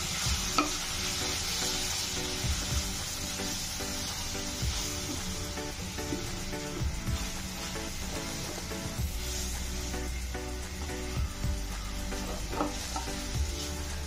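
Condensed milk mixture for modak stirred steadily in a pan, a continuous scraping and soft sizzle that persists throughout with a few sharper utensil knocks, no voices.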